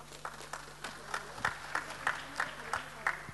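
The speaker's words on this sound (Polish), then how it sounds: "Gorące brawa" Light, scattered applause from a small audience at a dental trade fair awards ceremony, a dozen or so claps in an uneven rhythm, fairly faint.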